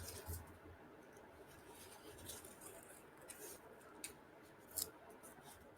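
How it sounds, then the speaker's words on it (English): Scissors cutting out a paper heart, quiet close snips and sliding paper rustle repeating at a fairly even pace, with soft talking underneath. "And I'm going to cut this one out."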